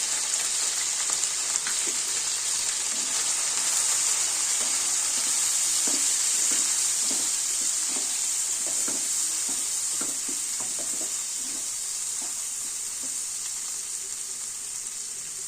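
Spice paste of cumin, coriander, chilli and turmeric frying in oil in a pan, a steady hiss of sizzling with soft scrapes and clicks of stirring scattered through, close and alone.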